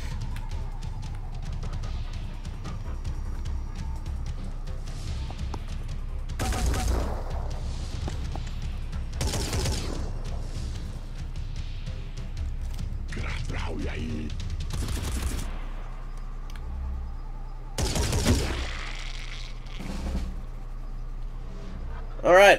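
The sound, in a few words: assault cannon firing in video game Phoenix Point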